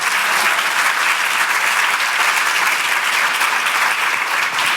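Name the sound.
audience applause welcoming speaker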